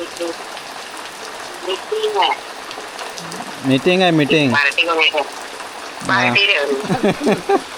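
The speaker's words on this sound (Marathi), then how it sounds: "भरपूर आहे म्हटलं पाऊस." Heavy monsoon rain falls steadily in a village, a constant broadband hiss under people talking conversationally.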